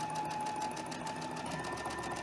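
A sewing machine stitches quilt fabric in a steady, fast mechanical whir with a rapid rhythmic chatter, fairly quiet and close, running continuously with no voices.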